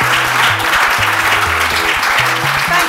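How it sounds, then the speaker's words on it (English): An audience claps for panelists after an edtech discussion, steady broadband applause sustained throughout with a low musical tone playing underneath. "Can we give our panelists a round of applause"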